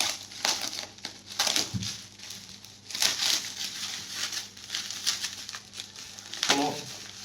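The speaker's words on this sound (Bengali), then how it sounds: "আমি আনপ্যাক করে আপনাদেরকে দেখাবো আর কি" A roti maker being unpacked from its packaging, with crinkling plastic and crushing, rustling wrap in irregular bursts, close and moderately loud.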